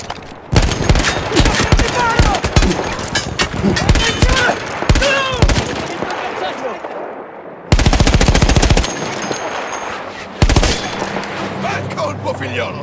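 Bursts of heavy machine gun fire in Battlefield 1, a mounted gun taken from Austro-Hungarian troops, rattling in long rapid volleys with short pauses, close and loud over distant battle noise and faint voices.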